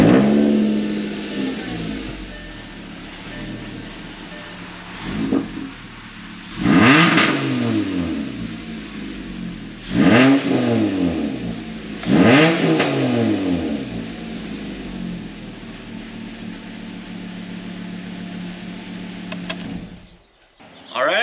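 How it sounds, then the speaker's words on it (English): A Volkswagen or Audi gasoline engine idles after a fuel filter change, then is revved several times in quick rising bursts that fall back to a steady idle, close and clear, with the engine cutting off near the end. "And then you can go up and fire the engine,"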